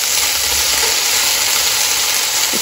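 Food fries in a pan with vegetable oil, sticking to the surface, producing a steady, close sizzle that runs continuously without any talk.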